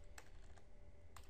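Faint typing on a computer keyboard, a few soft separate key taps over a low background hum.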